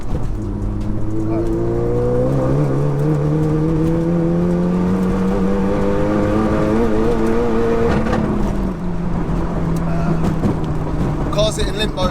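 A loud, stage 4 tuned SEAT Leon Cupra accelerates hard, its droning pitch climbing through the gears with a brief shift dip before easing off.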